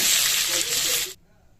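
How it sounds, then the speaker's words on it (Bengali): Soybean chunks fry in a little oil in a wok, giving a loud, steady sizzle and hiss that runs for about a second before cutting off abruptly into quiet. "এবার ভাজবো সয়াবিনটা সয়াবিনটাও হালকা তেলে ভেজে নেব"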